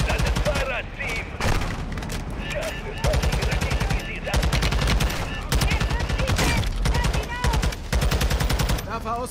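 Loud rapid automatic gunfire in the Call of Duty Modern Warfare II video game, long dense bursts of shots repeating with brief pauses throughout, with booming impacts and a player's voice under the shooting.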